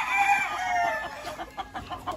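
Chickens cluck and call softly at a distance, a short squawky phrase followed by several brief scattered clucks, faint against quiet outdoor background.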